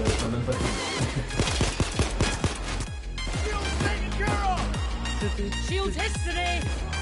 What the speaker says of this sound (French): Bah là, j'ai tiré 20 balles, ça même pas fini.